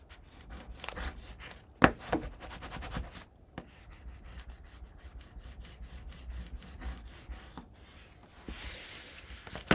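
Glued paper for a mini album cover is burnished by hand, giving close, quiet rubbing strokes in quick repeated passes, with a few sharper taps between them.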